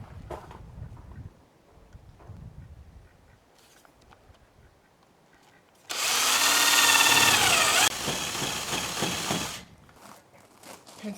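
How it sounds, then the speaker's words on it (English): A power drill bores a hole for a door plate in a homestead tractor barn: a loud, close whir lasting about four seconds, dipping briefly midway, after quiet handling sounds and soft background noise. "And then drill up that hole."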